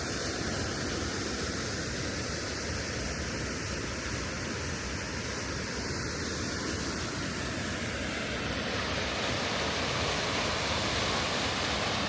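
Waterfall at the Great Falls Mill ruins, a constant broadband roar of rushing, falling water that stays loud and even throughout with no pauses or talking.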